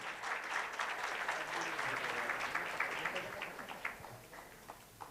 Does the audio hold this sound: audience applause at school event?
yes